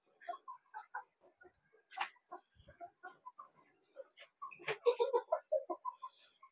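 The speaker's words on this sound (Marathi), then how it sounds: "डाळग्यामध्ये कोंबडा आहे." A rooster in a woven basket gives soft, short clucks and low grunting calls in scattered bursts, fairly close, with a louder flurry near the end.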